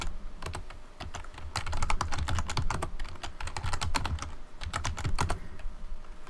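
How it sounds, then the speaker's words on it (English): Hard, rapid typing on a computer keyboard by a frustrated gamer, dense bursts of loud key strikes close to the mic with brief pauses between flurries and no talking. "Sounds like you're trying to kill your keyboard"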